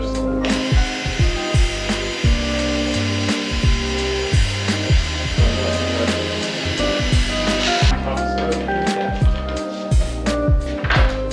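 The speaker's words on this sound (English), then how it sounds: "We're going to try to pre-drill probably in the center first." A power drill pre-drills into a wooden board during a garage makeover, its motor whirring in repeated short bursts with rasping, ratcheting bites into the wood, close and loud.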